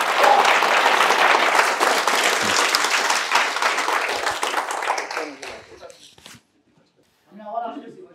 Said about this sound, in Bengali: তাহলে আরেকটা হাততালি হয়ে যাক রিচের জন্য